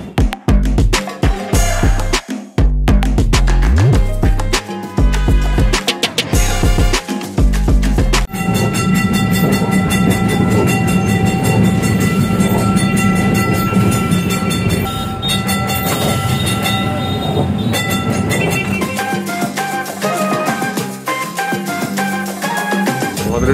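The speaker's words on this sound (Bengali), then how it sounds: "আমি যে ট্রামটা করে যাচ্ছি এটা কিন্তু একটাই বগি" A single-carriage Kolkata tram running through the city, a steady rumble with rattling and clicking along the rails, close and continuous, with a short mechanical hum partway through and no talk.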